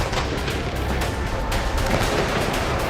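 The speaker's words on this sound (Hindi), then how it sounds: "राष्ट्रपति को 21 तोपों की सलामी दी गई" Ceremonial 21-gun cannon salute for the President at Visakhapatnam, heard as a loud, continuous rumbling roar of booming blasts that blend into one sustained, thick wash of sound.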